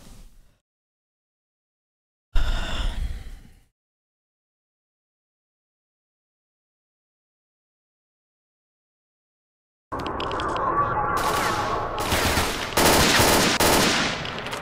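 Gunfire in the video game S.T.A.L.K.E.R. Shadow of Chernobyl comes as a short loud burst, then silence, then a dense stretch of rapid automatic shots and cracks.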